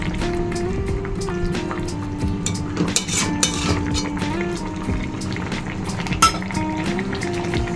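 Fried rohu fish pieces go into a simmering vegetable curry, and the pot bubbles and sizzles steadily with occasional clinks and soft splashes, close and fairly loud.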